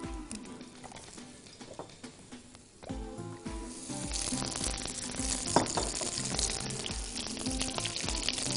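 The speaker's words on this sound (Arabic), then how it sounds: "تعالوا ناخد البصل كده تشويحة بسيطة" Onion sizzling in a pan as it is lightly sautéed for a sandwich vegetable mix with cabbage, a steady frying hiss that grows fuller after a few seconds, with no talking.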